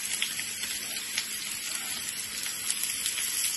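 Crushed garlic fries in a pan for a vegetable frankie filling, with a steady close sizzle and small crackling pops scattered throughout.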